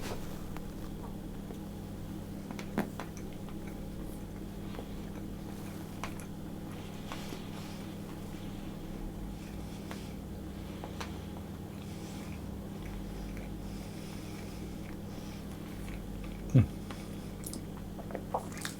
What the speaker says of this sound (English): that's the fig seeds that were crunching between my teeth as I was eating it